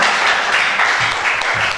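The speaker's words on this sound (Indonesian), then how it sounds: "Tepuk tangan bagi Tuhan kita." A church congregation at Sunday worship claps in praise, a brief but full burst of many hands sounding together, steady and fairly loud throughout.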